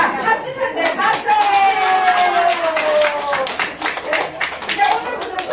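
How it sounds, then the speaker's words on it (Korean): Audience clapping at a health-centre brain-health laughter therapy class, a steady run of hand claps under overlapping talk and voices. "자, 박수 쳐주세요."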